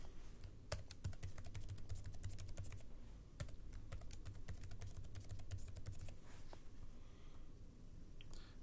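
Someone types a password on a computer keyboard while setting up a web server, a close, rapid run of sharp key clicks in irregular bursts with short pauses, thinning out toward the end.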